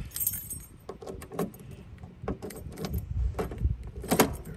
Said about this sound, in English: So keys work on both locks.